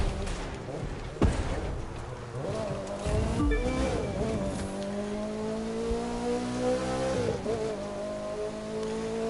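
A rally raid car engine in The Crew 2, revving and shifting on a dirt trail route through Utah. Steady rising engine tones climb through the gears, with a sharp bump early on and some rough knocks partway through.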